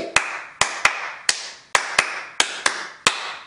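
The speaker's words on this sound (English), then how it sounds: "Let's clap our hands." A congregation at a church service claps hands in a steady rhythm of about ten sharp, evenly spaced claps, close and distinct, with no voices.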